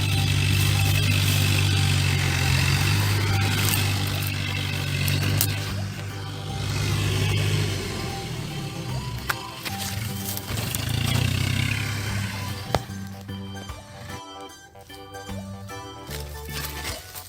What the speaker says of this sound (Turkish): traktörler de toprakları sürüyor bu mevsimde